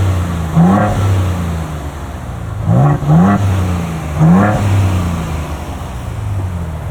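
A Ford Bronco Raptor engine and exhaust are revved in three distinct blips over a low idle, each a quick rising roar that falls back, close and fairly loud.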